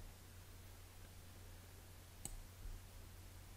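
A computer mouse gives one brief, faint click while a curve is drawn with the path tool in Canvas Workspace for Web, set against a steady low hum.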